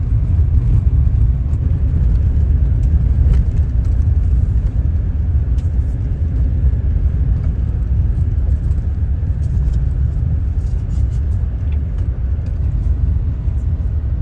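Steady low rumble of a truck driving along a road in Wyoming, engine and tire noise constant throughout, with occasional light rattles.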